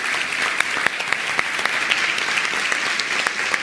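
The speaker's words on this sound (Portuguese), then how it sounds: "Uma salva de palmas para a Letícia." Audience applause for a woman called up in front of a crowd, dense steady clapping with sharp individual claps standing out, loud and close, with no talk over it.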